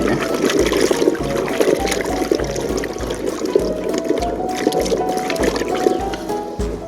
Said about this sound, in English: I'll swirl them under the tap and see if we can weigh them.